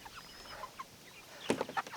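Chickens inside a movable chicken tractor, a few soft clucks and a sharper burst of rustling and clucking near the end, fairly faint and close.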